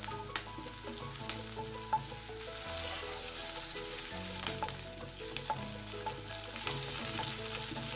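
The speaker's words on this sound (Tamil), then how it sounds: "வெங்காயம் கொஞ்சம் வணங்கிட்டோம்." Onions and curry leaves sautéing in a pan for a South Indian cluster bean poriyal, giving a steady, close sizzle with occasional stirring clicks, with no talk.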